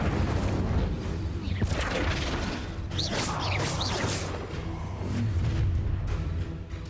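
An Incendio fire spell blasts in the game Hogwarts Legacy: roaring fiery whooshes and booming bursts pile up over a dense, continuous rumble of battle effects.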